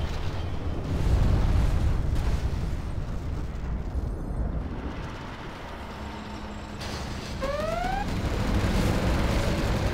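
A heavy, rumbling particle cannon blast from the Command & Conquer Generals Zero Hour video game, a long roaring surge that swells early, eases midway, then returns with rising electronic tones near the end.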